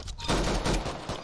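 A Hush Puppy pistol in the Roblox game Arsenal fires in a quick burst of muffled cracks, close and loud, packed into about a second.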